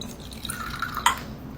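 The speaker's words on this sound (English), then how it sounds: "it is time to add water" Water trickles briefly into a makeup mixture, ending in a small splash and drip, close and fairly quiet.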